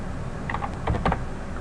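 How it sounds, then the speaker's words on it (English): Fingers type a word on a computer keyboard, a quick cluster of light clicky keystrokes over a faint steady background hum. "as I start typing Cynergy"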